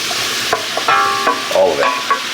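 Onion going into a hot pan for smoked corned beef and cabbage, with loud scraping and stirring clatter and bursts of sizzle; no voices.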